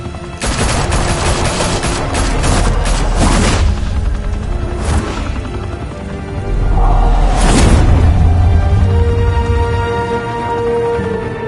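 Video game gunfire on PS4 rolls on for the whole stretch in heavy, overlapping volleys, with loud booming blasts rising out of the sustained barrage.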